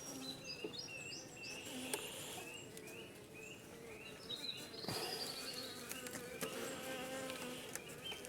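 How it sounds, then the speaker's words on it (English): A dense, steady buzzing of many honeybees close by at a farm beehive, with individual bees droning past in and out of the swarm, and a few faint bird chirps. "Bees all over the place."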